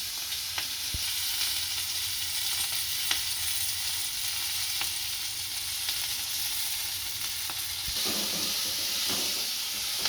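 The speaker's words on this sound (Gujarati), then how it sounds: "હલાવશું સારું કરી. અને શેકી નાખશું મરચાંને." Green chillies coated in gram flour sizzle steadily in a pan for a Kathiyawadi-style dish, a continuous close frying hiss broken by a few soft clicks of stirring.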